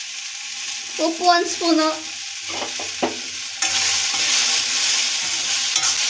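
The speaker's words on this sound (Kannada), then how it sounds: "ಅಲ್ಲಾಡಿಸ್ಬೇಕು. ಫ್ರೈ ಮಾಡ್ತಾ ಇರಬೇಕು." Beans palya being stir-fried with spices, garam masala and salt in a pan, giving a steady close sizzle with spoon scraping and stirring clatter, while a voice speaks briefly over it near the start.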